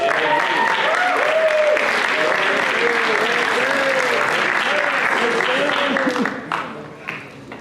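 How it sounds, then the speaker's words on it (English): Loud, dense applause from a leadership summit audience welcoming four people to the stage runs steadily and then thins out and fades near the end, with voices mixed in. "Let's give them a round of applause."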